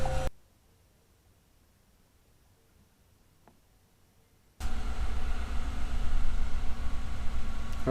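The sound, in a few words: Chevy V8 engine starting with Viking power pack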